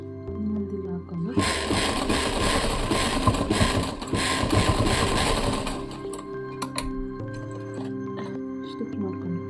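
A sewing machine runs in a steady mechanical whir while stitching a pocket onto a child's pant, stopping after a few seconds and followed by faint clicks and handling sounds.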